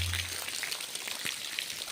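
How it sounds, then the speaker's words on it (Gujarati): Light unseasonal winter rain patters on a hard surface, soft scattered drops and ticks over a quiet hiss, fairly faint and close. "વાવથરાજ તાલુકામાં ભારે પવન અને ગાજવીજ સાથે પડ્યું માવઠું"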